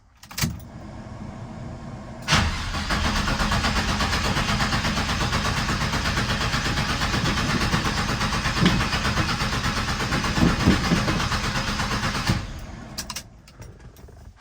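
A 1977 Chevy C10 engine cranks for about ten seconds without catching, a steady loud grinding starter whir that cuts off, with brief clunks before and after.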